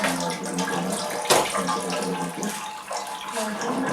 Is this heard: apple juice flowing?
yes